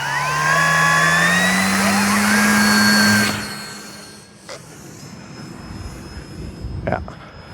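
A high-pitched electric motor on a Kavan Pulse 2200 V2 RC airplane whines loudly, then drops away and continues more faintly in the distance with a few brief whooshing passes.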